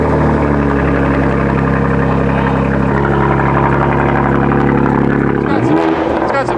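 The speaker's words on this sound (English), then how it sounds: "We're ready to bring this thing down to the ground for the first time and hear it with AWE track exhaust." A BMW G82 M4 fitted with an AWE track exhaust idles with a deep, steady, loud drone, then shifts pitch near the end, with people talking over it.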